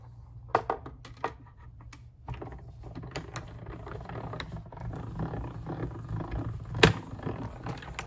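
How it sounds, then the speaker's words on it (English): A die cut and emboss machine is cranked through vellum for a card, giving scattered clicks and taps at first, then a rising grinding rumble with a sharp snap near the end, close by with no talk. "let's bring our cut and emboss machine back up here. And we'll cut our"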